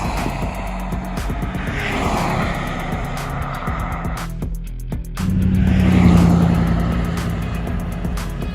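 An HBX 2997A budget brushless RC car with an XTEAM motor and ZTW ESC drives fast on a road at about 61 mph, giving a loud, continuous electric whine. It rises in pitch and surges louder partway through as it passes close, with no talking.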